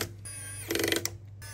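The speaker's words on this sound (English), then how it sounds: "And then pop those 3 screws back in." A small screwdriver turns screws back into a Samsung Galaxy S24 Ultra during a charge port repair, giving a brief, faint ratcheting click and scrape up close on a quiet bench.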